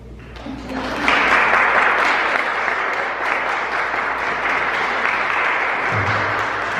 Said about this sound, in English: can we just have one more round of applause for Jasmine?